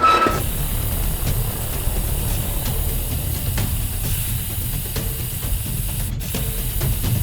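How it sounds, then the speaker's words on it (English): An aerosol spray paint can sprays indoors, giving a steady, loud hiss that runs unbroken for several seconds, with a few faint clicks over it. "You can't spray paint inside."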